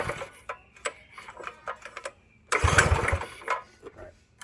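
A Manco Dingo go-kart engine with a freshly swapped carburetor sputters and ticks in irregular bursts, then fires into a louder rough run for about a second before dropping back to intermittent pops and clatter.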